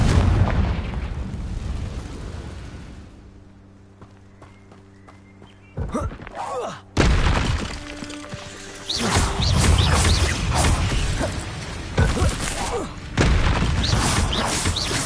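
Fiery spell blasts and explosions from the Confringo spell in Hogwarts Legacy, loud booming bursts amid battle effects and a music swell, with a quieter lull partway through.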